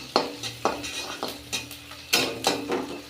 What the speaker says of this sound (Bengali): শাকটা এখন ভেজে নেব, পেঁয়াজ আর লঙ্কা